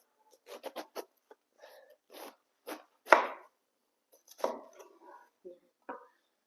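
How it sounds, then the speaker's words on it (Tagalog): A knife cutting a Chinese cabbage in half on a board, a series of sharp crunchy chops and slices in uneven bursts, close with quiet pauses between strokes. "So, ang gagawin natin dito, guys, ikakat natin siya ng half."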